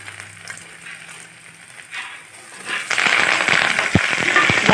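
Oil sizzles and crackles softly, then grows into a loud, busy frying hiss with sharp pops as chopped ginger hits the hot pan while making lemon rice.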